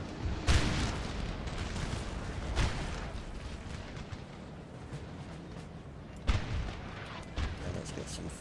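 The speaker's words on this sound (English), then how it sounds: "Let's get some cannon fire on those guys." Napoleonic cannons firing in Napoleon Total War, a few deep booms spaced apart and rumbling in the distance over a constant battlefield din.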